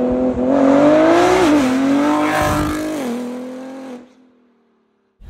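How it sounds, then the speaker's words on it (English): A Mansory-tuned Ford GT with about 710 horsepower revs hard and close, a loud sustained engine roar whose pitch climbs and dips before dropping away into near silence. "And here we have tuned version by Mansory, 710 horsepower and over 800 Newton meters of torque."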